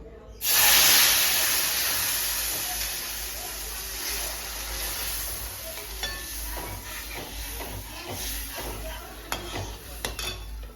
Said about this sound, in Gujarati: હવે એમાં નાખીશું આપણે 3 વાટકી દૂધ